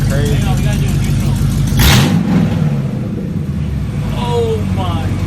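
Mercedes E55 AMG engine with a manual gearbox swap revving hard in neutral, a loud close rising roar that peaks and drops back to a rumbling idle, with people talking over it.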